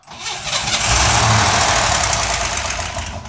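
A Corvair engine cranks over on a cold start, a loud continuous starter-driven churn with rough clattering firing held steady for about three seconds, with no talk over it.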